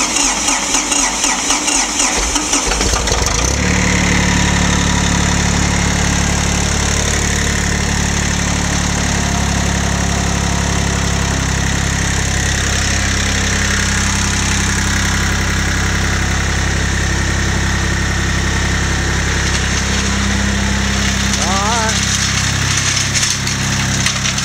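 A car engine idles steadily, then revs up as more throttle is given, a loud, continuous close-up drone with rising and falling pitch and no talk, recorded during electrical troubleshooting on a car with a bent rim.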